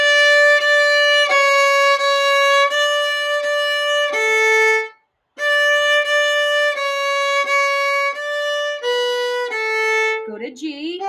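A viola plays a simple tune of sustained bowed notes in a steady march rhythm, close and loud, with one short silence midway and a brief sliding note at the end.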